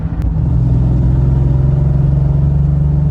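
A Triumph TR6 engine drones steadily from inside the car while driving, a loud, even low hum with a faint rhythmic exhaust pulse and road rumble, with no talking.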